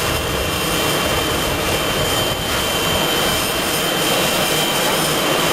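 Steady, loud roar of a jet airliner's engines on an airport runway in 1989, a broad continuous wash of noise that holds level for the full stretch with no talk over it.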